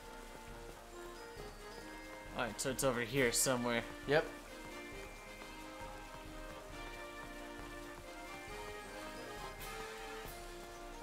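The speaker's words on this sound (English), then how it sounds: "And it's raining." Steady rain falls in the Pokémon Violet video game as a soft, even patter under background music, with a short stretch of players talking in the middle.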